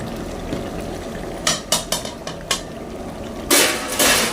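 A spoon stirs mutton curry with freshly added coriander in a metal pot: a quick run of scraping, clinking strokes against the pan, then louder, longer scrapes.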